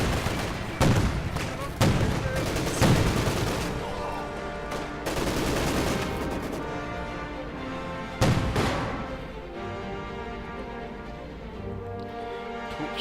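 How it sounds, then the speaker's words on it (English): Rapid bursts of 37mm high-explosive cannon fire from a Flak Panzer in the World War II strategy game Company of Heroes 2, with several loud volleys over continuous battlefield rumble and explosions. "Flak Panzer moving in here, dealing with the guardsmen. Turning into them up close. With its 37mm high explosive shells."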